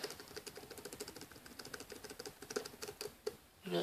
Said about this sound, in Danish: Her er dejligt at trykke på med vores tastatur.